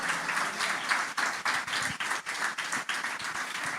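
A crowd at a church gospel gathering claps in a steady, rhythmic applause, moderately close and continuous for a few seconds, with no talking over it.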